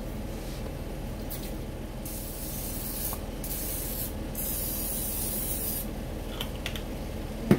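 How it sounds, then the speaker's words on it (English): Olive oil cooking spray hisses steadily onto chicken pieces before air frying, a continuous close aerosol spray with brief pauses, ending on a small knock. "olive oil spray I'm going to put on here."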